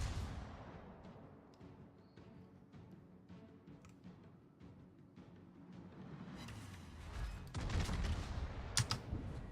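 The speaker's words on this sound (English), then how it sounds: "All stations, concentrate fire on the target." Naval guns fire in World of Warships as a series of sharp cracks and booms, with a heavier, louder cluster of blasts near the end.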